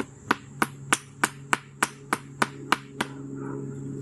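Stake hammered into yard ground for a homemade scarecrow: about ten sharp, evenly spaced blows, loud and close, ending in a brief scrape with no speech.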